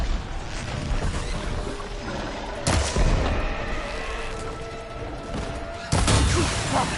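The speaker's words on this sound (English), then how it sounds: "Looks like they're exploding the nest now." Explosions tear apart a machine nest in Horizon Forbidden West, with two loud booming blasts standing out over continuous rumbling combat noise and clanking machinery.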